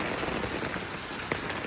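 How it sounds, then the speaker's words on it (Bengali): Heavy rain from Cyclone Alfred pours down in Brisbane, Australia, a dense, steady hiss of drops hitting surfaces, close and continuous with no voices. "এখন প্রায় 20 ইয়ার্স পর এরকম ঝড় বৃষ্টি হয়েছে এখানে"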